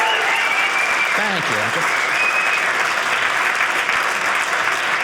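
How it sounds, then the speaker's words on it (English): An audience at a stand-up comedy show breaks into loud, sustained applause filling the room, while someone briefly speaks over it near the start. "I just throw that in there when I want an applause break."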